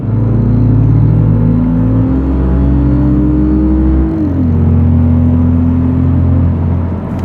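A 2014 Lexus IS250 AWD F Sport with its four-cylinder engine cruising on the road, a loud steady rumble and whir that climbs in pitch, drops at a gear change, then settles into a smooth drone.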